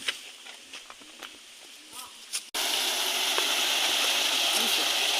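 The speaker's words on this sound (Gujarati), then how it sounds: "આપણી મોટર હું કહે કે તાકાતથી પાણી કાઢે" An electric motor pump pours water into a livestock watering tank, a steady loud gushing rush that starts abruptly midway after a quieter stretch of scattered taps and bumps.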